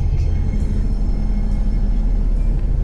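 Steady low rumble and road noise from inside a moving bus in the Philippines, a constant drone with faint rattles and no voices.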